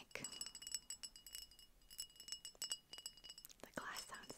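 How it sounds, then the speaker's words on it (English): Tiny glass bottles from a dollar-store haul clink lightly and repeatedly close to the microphone, bright little chinks spread through the moment, with soft whispering alongside. "The glass sounds nice."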